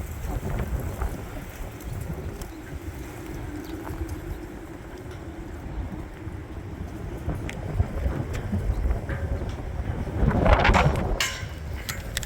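Strong gusting wind outdoors in a park during a dust storm warning, roaring and buffeting the microphone in a steady broadband rush that swells louder near the end.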